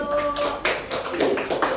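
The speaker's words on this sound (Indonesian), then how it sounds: "Beri tepuk tangan kepada kelompok 1." A classroom group claps for presenting students during a microteaching session on simple water filtration, a short burst of hand claps with a faint tone and some voices mixed in.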